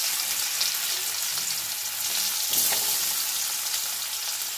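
Boiled potatoes frying in oil in a wok, a loud continuous crackling sizzle with a brief burst of spattering midway.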